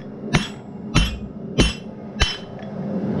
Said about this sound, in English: Hammer straight down.